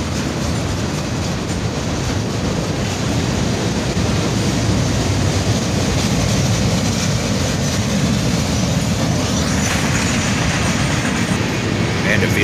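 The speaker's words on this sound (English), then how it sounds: "And a Procore covered hopper here." A freight train with a Procore covered hopper car rolls past close by, its steady loud rumble and rail noise filling the whole stretch without a break, in rainy weather.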